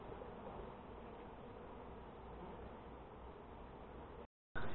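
Honeybees buzz around an open hive in a dense, steady hum that stays low and even, then drops out for a moment and comes back.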